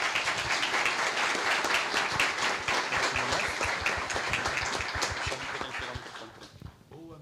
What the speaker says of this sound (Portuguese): queremos convidar a todos para saudá-los com uma salva de palmas.